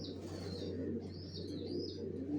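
Racer pigeon chicks of the Johnson line, down-shape racers bred in a home loft, give soft continuous cooing and faint chirps over a steady low background hum, close by and unbroken.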